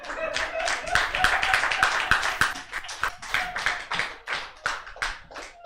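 A comedy club crowd in Sacramento clapping and cheering for a comedian as he takes the stage, a burst of energetic applause that fades toward the end, with some speech mixed in.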